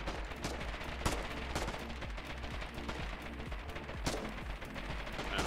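Rifle gunfire in a video game firefight: a few sharp, distinct shots stand out over a constant background of rattling battle noise, at moderate volume with no talking.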